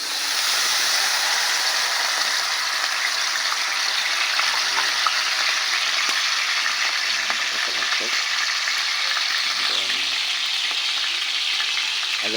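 Washed potatoes fry in a hot pan with a steady, loud sizzle that runs unbroken throughout, with faint stirring scrapes now and then.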